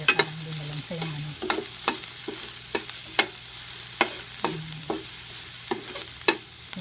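Ginger frying in a pan for spicy chicken ala Maria, a steady hiss of sizzling oil broken by repeated scraping and clacking strokes of a utensil stirring, close and fairly loud.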